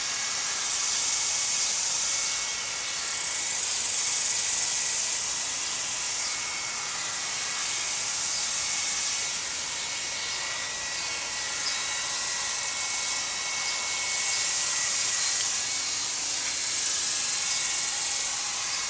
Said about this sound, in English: you're heat shrinking it with the heat gun.